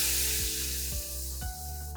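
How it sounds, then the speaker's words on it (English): Red wine poured into a hot pan with leftover browned bits sizzles and hisses steadily and close up, a bright continuous fry noise over a faint steady background hum. "The next step is going to be to add your red wine."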